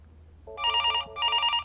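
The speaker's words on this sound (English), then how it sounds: "Phone is ringing." A telephone rings with two bright electronic bursts, each about half a second long, close and clear with a short pause between them. A brief lower tone comes first, and no voices are heard.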